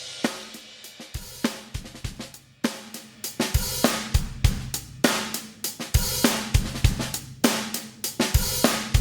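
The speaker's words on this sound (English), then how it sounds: "the idea here is to compress the snot out of this drum track" Drum track crushed by heavy compression with a fast attack and high ratio, the kick, snare and cymbal hits pumping in a steady driving rhythm, loud and dense with no voices.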